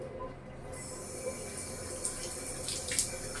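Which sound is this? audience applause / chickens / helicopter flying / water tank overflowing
water tank overflowing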